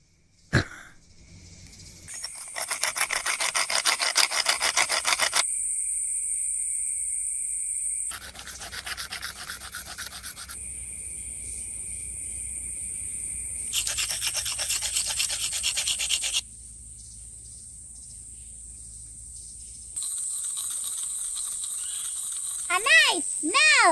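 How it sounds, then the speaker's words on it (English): Rasping metal-on-metal strokes from filing or grinding a blade in a played video, heard as long sustained scraping passes with abrupt stops and restarts, fairly loud and steady, with a brief chirping sound near the end. "He's making a blade."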